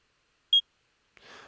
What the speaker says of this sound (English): So here is that beep sound. Literally, it's one little tiny beep.